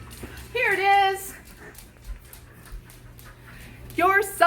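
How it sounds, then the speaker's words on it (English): Two dogs, Alpha and Doug, give short whining, yelping barks in two brief bursts, separated by a quieter stretch with low background hum. "Oh, sorry about the barking, guys."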